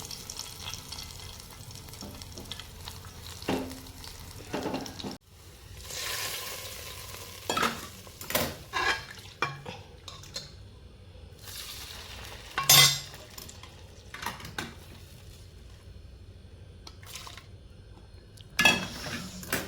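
Mustard seeds and garlic fry in a pan, with a soft sizzle broken by irregular spatula stirs and light metallic clinks against the pan, close and fairly quiet.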